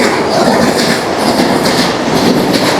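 Mumbai local train passing at a station, loud close rumbling roar with rhythmic wheel clatter over the rails, continuous throughout.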